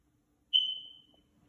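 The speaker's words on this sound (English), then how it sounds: "There is a smoke alarm chirping." A single short, high-pitched chirp from a smoke alarm inside a house, sharp onset then fading over about half a second, fairly faint in a quiet room.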